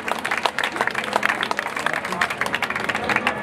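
Dense crowd applause at an outdoor street-fair stage in Strasbourg, steady and fairly loud, with voices and cheering mixed into the clapping throughout.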